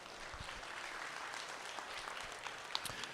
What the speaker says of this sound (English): let's give 6 through 10 a nice round of applause